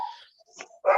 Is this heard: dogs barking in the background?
yes